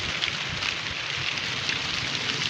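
Heavy rain pours outside in a steady, dense hiss of drops drumming on surfaces, close and unbroken throughout, with no talk.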